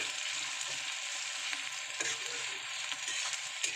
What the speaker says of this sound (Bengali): আমি কিন্তু পেঁয়াজটা খুব ভালোভাবে ভেজে নিচ্ছি, একদম লাল লাল করে ভেজে নেব